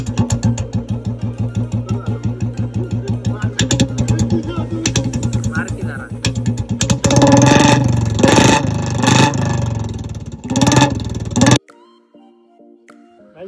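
A Royal Enfield Bullet motorcycle with a loud aftermarket silencer thumps close by in a rapid, even idle beat, then revs hard with several throaty bursts before cutting off abruptly; voices can be heard briefly afterward.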